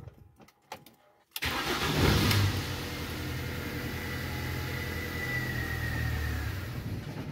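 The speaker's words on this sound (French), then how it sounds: "Donc on redémarre la voiture." A few quiet clicks, then a car with a poor cold-start problem is restarted; the engine cranks and catches, settling into a steady rumbling idle nearby.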